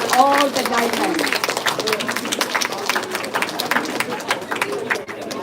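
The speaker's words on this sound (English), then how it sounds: "Please give a huge round of applause to Felix and Trina" An audience claps in applause for Felix and Trina at a Sunday school's final day, with steady clapping running under a speaking voice.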